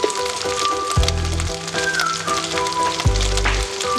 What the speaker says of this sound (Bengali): মশলাটাও কিন্তু পেঁয়াজের সঙ্গে ভালো করে মিশিয়ে নিতে হবে, সুন্দর করে কষিয়ে নেব